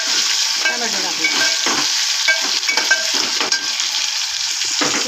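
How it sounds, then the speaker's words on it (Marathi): Washed, finely chopped tomato frying in a pan, a loud dense hissing sizzle with continuous stirring scrapes and occasional utensil taps, close and steady throughout. "धुवून चांगला बारीक चिरून टॅमॅटो टाकते"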